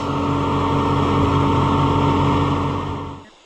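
Vintage Case tractor engine idling steadily and loudly up close, a dense continuous drone that holds for about three seconds before cutting off abruptly as it shuts down.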